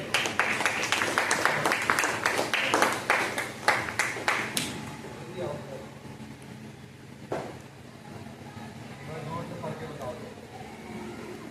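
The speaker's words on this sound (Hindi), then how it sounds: "तालियां हो गई।" A class of students at a gurukul school claps rhythmically in a series of loud, close strikes for several seconds, then stops, leaving room noise and quiet talk.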